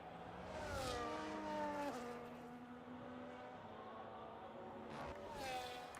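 A Formula 1 car in a racing video game rolls through the pit lane at the Belgian Grand Prix, its engine note whining and shifting in pitch, steady and moderately loud, with a second car sweeping past near the end.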